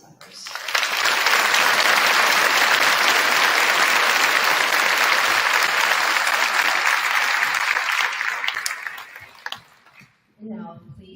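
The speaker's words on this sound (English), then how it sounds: "Please join me with another round of applause for our enlisted members." Sustained loud applause from a graduation ceremony crowd honoring enlisted members, steady for about nine seconds before fading out, with a voice briefly speaking at the end.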